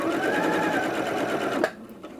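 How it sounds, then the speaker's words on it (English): A Janome 230DC sewing machine stitching steadily and close, a continuous rapid whirring hum of needle strokes that stops abruptly near the end, leaving a few faint clicks. "Lower the foot again and continue stitching."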